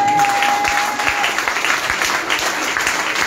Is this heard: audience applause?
yes